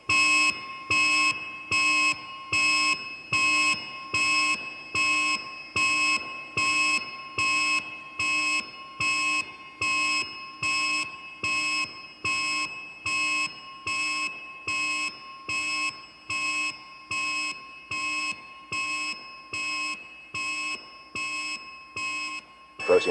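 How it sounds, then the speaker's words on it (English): An alarm beeps steadily during a surgical operation scene, a loud electronic tone repeating in an even rhythm of about one pulse per second for the whole stretch, with no talking. "We have an alarm."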